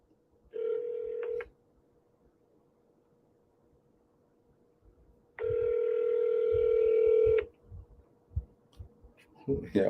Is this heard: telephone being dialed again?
yes